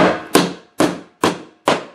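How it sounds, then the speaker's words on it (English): Four sharp hammer blows on a nail driven into wood while building a small animal shelter, evenly spaced about half a second apart, loud and close with no talk. "always got to have a hammer nearby."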